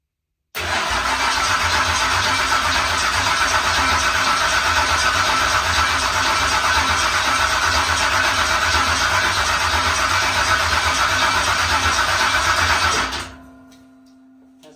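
Modified car engine firing up after fuel is poured into the intake, a sudden loud start that runs steady and rough for about twelve seconds before cutting off abruptly.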